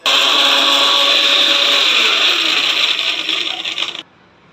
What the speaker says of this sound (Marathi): आता हे सगळं बारीक करून घेणार मिक्सरमध्ये